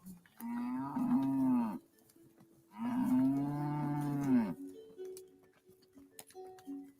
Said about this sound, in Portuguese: Em cima daquela serra passa boi, passa boiada.